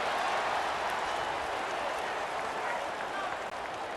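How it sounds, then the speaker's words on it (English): Stadium crowd from the College Football 25 video game during a Pittsburgh Panthers game, a steady, dense roar of cheering and applause-like wash that holds without pause for several seconds and fills the foreground. "there's all this crowd noise"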